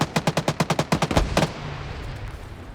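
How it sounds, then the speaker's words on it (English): A rapid burst of gunfire as a full magazine is emptied in a tactical team shooter match, roughly a dozen evenly spaced loud shots, then a fading echo and quiet ambience. "Pete's gonna run in and literally mag dump poor Holton there."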